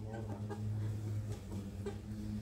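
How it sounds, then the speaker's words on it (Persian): Brahma chickens cluck softly in a steady low murmur, with a few sharper clucks rising over a constant background hum. "اینا نژاد برهمن. ولی مرغن؟"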